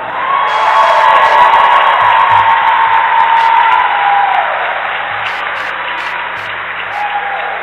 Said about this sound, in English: let's hear a great round of applause for Cal State LA's newest track and field national champion, Callista Lyon